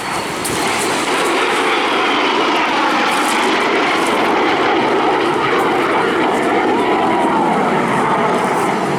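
A Mikoyan-Gurevich MiG-17 jet flies at an airshow with a loud, sustained roar that holds steady throughout, a broad rushing engine noise with no break.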